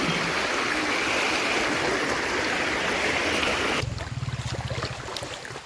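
Rainwater after a heavy downpour rushing across a village road, a loud steady gushing wash that drops away sharply near the end to a lower, rippling trickle.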